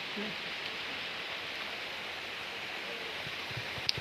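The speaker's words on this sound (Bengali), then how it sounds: "আজকে মানে গুড়ি গুড়ি হালকা মানে হয়ে বৃষ্টি পড়ছে" Light drizzle falls in soft, steady hiss at low level, faint and even throughout, with a few small taps near the end.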